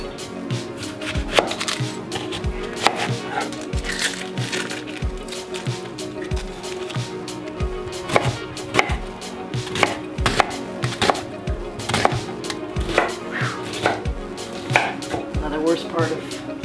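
Onions being chopped on a board for vegetable soup, a brisk, continuous run of sharp knife taps close by, with no one speaking.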